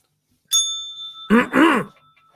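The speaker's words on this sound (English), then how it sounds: "Where is that positivity bell?" A single bright bell ding rings out and lingers briefly, then a short burst of voice follows.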